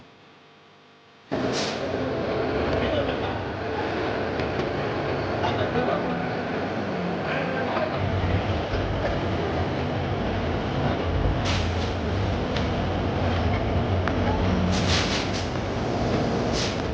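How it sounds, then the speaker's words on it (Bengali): The Sundarban Express runs from Dhaka toward Khulna with a loud, steady rumble and rattle of the carriages, starting abruptly after a brief quiet moment and swelling in a few short bursts. "ট্রেন ছুটে চলল খুলনার পথে"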